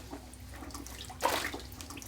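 Cloth is eased into a pot of water for mordanting in natural dyeing. There is a soft, low watery slosh with a brief louder splash in the middle, and faint background noise throughout.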